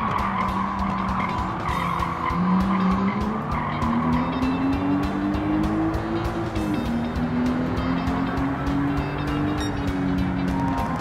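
Tires squeal and skid through a long turn in Gran Turismo 7 over a loud, steady race car engine whose pitch rises and falls, with no talking.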